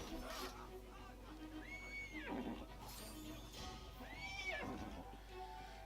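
Horse neighing in Assassin's Creed Syndicate, two rising whinnies about two seconds apart over busy street noise and crowd chatter.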